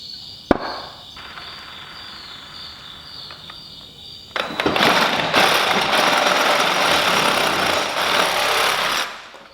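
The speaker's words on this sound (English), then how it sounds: "With the Sawzall. So we'll have this chunk removed." A Sawzall reciprocating saw cutting through a Chevrolet C10 truck cab, a sharp knock and faint buzzing giving way to a loud, sustained rattling cut that runs close and steady before stopping.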